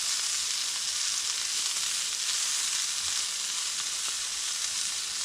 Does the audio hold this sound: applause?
no